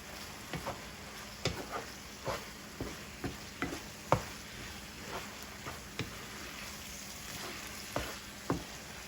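Ground beef stroganoff is stirred in a frying pan, a soft continuous sizzle broken by regular spoon taps and scrapes against the pan, quiet and close, about a dozen clicks spaced roughly evenly.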